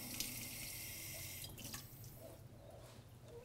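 A short trickle of water, about a tablespoon, pours into a pan and drips close by, fading after a second or so into quiet background hiss.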